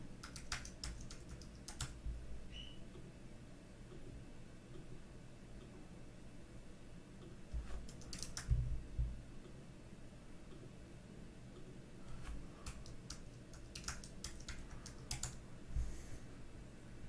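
A password is typed on a computer keyboard in quick, faint key taps, coming in short bursts separated by pauses, against a low steady hum in a quiet room.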